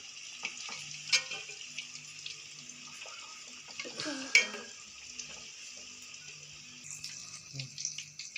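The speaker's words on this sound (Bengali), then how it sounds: "দেখুন আমার আলু ভাজাটা হয়ে গেছে" Potatoes fry in a pan in a home kitchen, giving a faint, quiet sizzle broken by occasional scraping and stirring clinks of a utensil.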